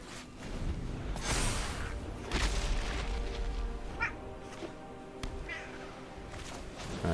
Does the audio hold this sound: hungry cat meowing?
yes